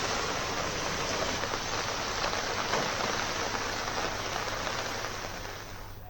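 Heavy monsoon downpour in Haridwar, India pours steadily as a dense, loud, continuous hiss of rain hitting surfaces, easing slightly toward the end, with no voices.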